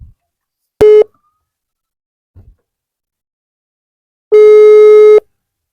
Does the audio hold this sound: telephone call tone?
yes